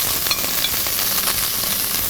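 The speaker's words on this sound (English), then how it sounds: "Start off with the onions just because they take a little longer to cook than the veggies." Onions sizzle steadily in a hot pan for Thai green curry, a dense, constant frying hiss that stays close and loud throughout with no talking.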